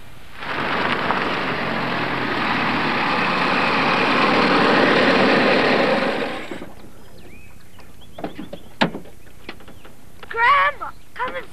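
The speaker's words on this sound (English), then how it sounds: "Grandma, come and see our new tractor." A new tractor's engine running nearby at a steady rumbling drone for about six seconds before cutting away, followed by quieter background sounds and brief voices.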